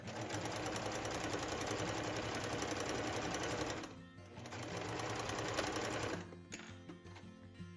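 A sewing machine understitches along a dress seam, producing a loud, steady mechanical whir. It stops briefly, runs again, and then slows to a lighter, uneven clatter at the end.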